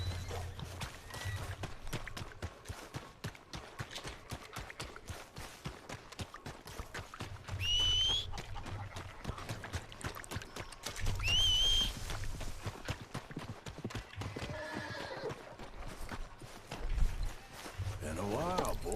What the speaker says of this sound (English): Acá está mi caballo.